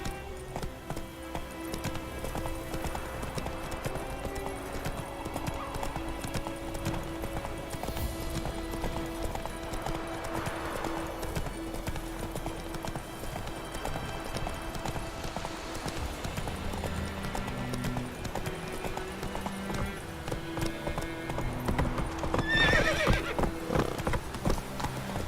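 A horse gallops in The Witcher 3, with rhythmic clip-clop hoofbeats running steadily under game music and ambience, plus a neigh near the end and faint voices in the background.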